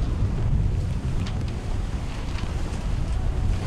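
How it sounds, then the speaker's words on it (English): A sailboat under way in 15 knots of true wind, heard as a constant loud rush of wind buffeting and water noise with no pauses. "We are sailing and we've got 15 knots of true wind"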